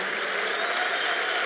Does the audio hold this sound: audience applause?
yes